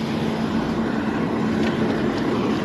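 A loud truck idles or rumbles close by along a roadside, a steady heavy engine drone filling the whole moment without speech.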